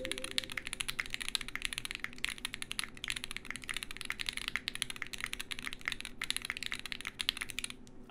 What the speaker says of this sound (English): This is not quite as clacky as I thought it was gonna be, but it's very nice.